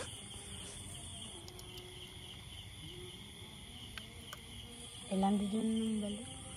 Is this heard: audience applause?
no